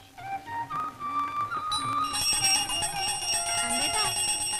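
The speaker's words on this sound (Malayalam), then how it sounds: "ദേവി ഒരുപാട് മണിയടിക്കണ്ട, സമയം എത്രയായെന്നറിയോ?" A prayer bell rings repeatedly in a devotional setting, its ringing tones rising and layering over low background sound.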